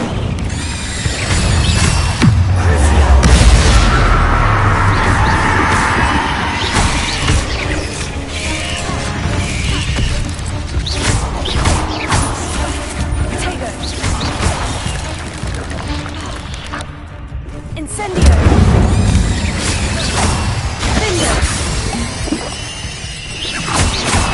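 Fiery spell blasts crackle and boom in Hogwarts Legacy, loud and dense within a busy game mix of clattering mechanisms and crashes, with a brief lull before another heavy burst.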